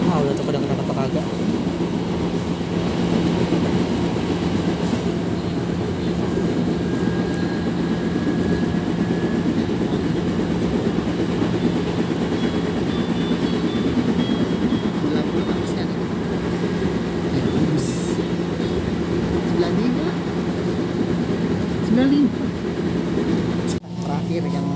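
A KRL commuter train runs between stations in Jakarta, giving a steady loud rumble and hum from inside the car with faint squeals and rail noise throughout.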